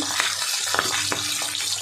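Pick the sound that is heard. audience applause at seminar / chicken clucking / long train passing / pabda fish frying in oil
pabda fish frying in oil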